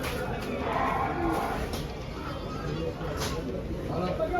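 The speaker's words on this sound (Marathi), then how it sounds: "अशा म्हशी एकदम मोठ्या मोठ्या म्हशी" Buffaloes lowing amid a busy, noisy buffalo market crowd in Dhule, the animals close by and mooing at intervals over a steady hubbub.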